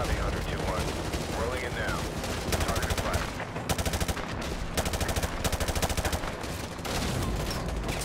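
Bursts of automatic gunfire erupt in the Call of Duty MW2 Remastered video game, with rapid machine-gun rattles in the middle and voices and game sounds around them.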